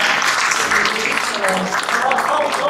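Audience applause at the close of a French-language question-and-answer session, a dense, steady wash of many hands clapping that carries through the whole stretch, with some voices mixed in beneath it.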